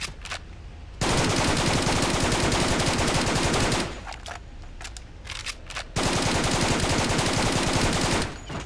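An AK rifle fires in a multiplayer shooter game, with two long, loud bursts of rapid automatic fire. Quieter scattered shots fill the gap between the bursts.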